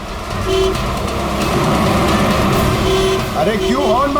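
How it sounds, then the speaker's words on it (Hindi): A vehicle horn gives a few short, steady honks over constant traffic noise on a busy road, with a voice talking near the end. "अरे क्यों हॉर्न मार रहा है?"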